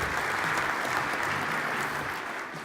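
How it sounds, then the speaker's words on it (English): Audience applause for a software company founder at a tech conference session, a steady dense clapping that holds evenly throughout and eases slightly at the end. "So big applause for Timo."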